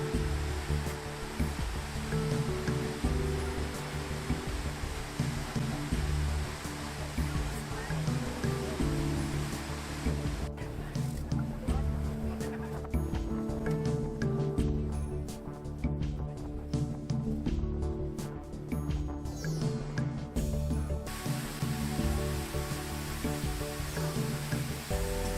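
Kimberley Falls in Western Australia, a set of high single-drop waterfalls, gives a continuous loud roar of falling water, a broad steady rush that never lets up from start to finish.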